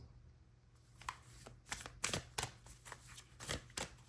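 Tarot deck being shuffled, with quiet, irregular papery flicks and taps that build after the first second, soft and close in an otherwise hushed room.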